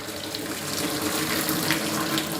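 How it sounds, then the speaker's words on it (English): Cooking water drains from a pot of boiled potatoes and carrots in a steady, close pour that rushes and splashes evenly the whole time, with no talking. "Gonna drain the water"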